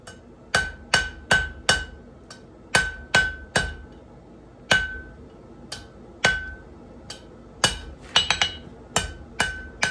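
Steel axe pendant being flattened on an anvil by a blacksmith at an off-grid forge: a series of sharp, ringing hammer blows in an irregular rhythm, close and loud, with a quick flurry of lighter taps near the end.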